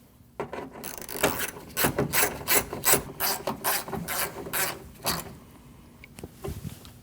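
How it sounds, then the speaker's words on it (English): A ratchet wrench tightening two 10mm bolts on a window regulator door bracket of a 2012-2021 Nissan NV2500 van, rapid rhythmic clicking in bursts, close and clear with no voices. "Install your bracket and your 2 10mm bolts. And tighten them."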